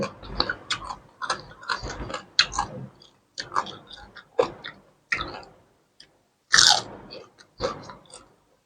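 Someone eats a pounded salad of soy-sauce-pickled salmon, with crisp, wet chewing bites in uneven bursts, close and alone, separated by short quiet pauses.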